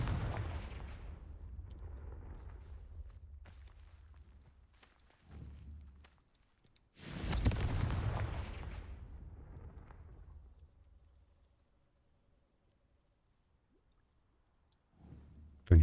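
A Confringo explosion spell cast in Hogwarts Legacy gives a loud whooshing blast that swells and slowly fades, followed by near silence and a sharp hit at the very end.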